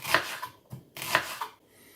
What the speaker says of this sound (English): I like to add a bit of red onion. So I'll cut away that rough, and then we'll slice this up quite thin.